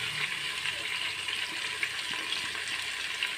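Chopped onion frying in oil in a pan, a steady broadband sizzle with soft crackles, continuous and close for the whole stretch.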